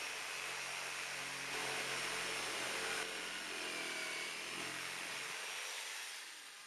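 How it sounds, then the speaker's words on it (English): A jigsaw cutting the tongues of a wooden slit drum gives a steady, loud, continuous buzzing whine with a rough broadband grind that slowly eases off toward the end, with no speech. "Using a jigsaw, I cut through the tongues."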